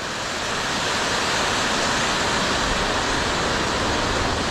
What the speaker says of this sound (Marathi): जागोजागी आपल्याला असे धबधबे दिसून राहिले आहे.